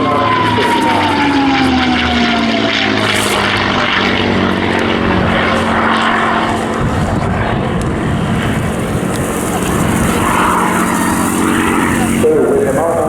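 A Rolls-Royce Merlin-engined heritage flight aircraft drones loudly and continuously as it flies past at an airshow, the engine note shifting in pitch as it passes, with no voices over it.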